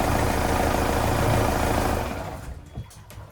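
A steady low boat engine idling loudly while being flushed with fresh water, then cutting off partway through, leaving a few faint knocks and clicks in near silence.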